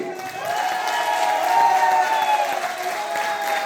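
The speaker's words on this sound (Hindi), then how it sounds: "एक बार जोरदार ताली।" Enthusiastic audience clapping at a motivational success-story event, swelling from a few claps into steady, loud applause with some crowd noise and faint voices mixed in.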